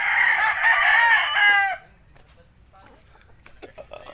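Roosters at a chicken coop crow loud and close in one long call, then quieter clucks and distant chirps follow.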